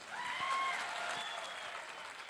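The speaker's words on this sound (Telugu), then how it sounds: "పెద్ద ఎత్తున చప్పట్లు కొడదాం." An audience at a political speech event in Vikarabad applauds, a steady wash of clapping that is moderately loud and even, with no talk over it.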